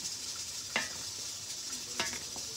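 A spoon stirs through macaroni salad with black olives, giving two distinct scraping clicks against the bowl over a faint wet, shuffling background, close and quiet.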